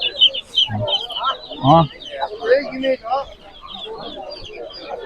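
Rooster at the Sabunchu poultry market clucking and calling in loud, close bursts, with more birds and people talking around it.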